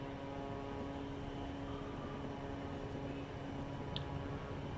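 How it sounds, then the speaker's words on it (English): Float plane taking off in the Florida Keys, a steady loud propeller engine drone heard from inside the cabin, continuous and even throughout, with no talk. "This float plane is also extremely squirrely on takeoff."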